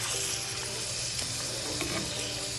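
Steak sizzling in a pan of garlic butter while being stirred and mixed, a steady close frying hiss with soft scraping movements throughout, no voices.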